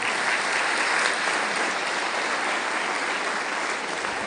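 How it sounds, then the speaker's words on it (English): Crowd applause at a leadership talk: sustained, even clapping from a large audience, loud and unbroken for several seconds with no speech over it. "Give her a round of applause, please."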